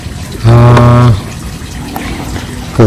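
Water pours from a container onto an eggplant seedling in a polybag, a short gush of about half a second followed by a faint trickle and then another pour starting.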